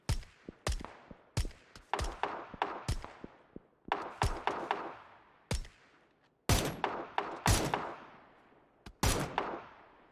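Rapid bursts of gunfire in the battle royale game PUBG, sharp cracks arriving in irregular clusters of single shots and quick strings, some loud and close, others softer, with a brief echoing tail after each.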